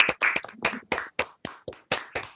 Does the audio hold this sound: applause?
yes